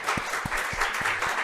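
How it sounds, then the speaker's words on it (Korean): A crowd applauds steadily at a church installation service for a new council chairman, many hands clapping together in a dense, sustained patter at moderate volume. "환영과 감사의 박수 한번 다시 부탁드리겠습니다"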